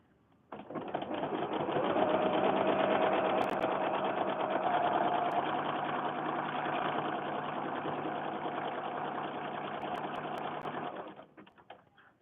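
A sewing machine runs continuously for about ten seconds while fabric books are made, a steady close mechanical whirr with a fast stitching rattle, starting and stopping cleanly.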